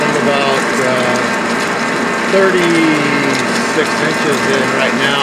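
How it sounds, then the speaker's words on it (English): A Warner Swasey turret lathe drives a spade bit deep into a large hole, grinding and ratcheting steadily as chips bind, with someone speaking briefly over the loud, continuous machining. "This is on a Warner Swayze turret lathe."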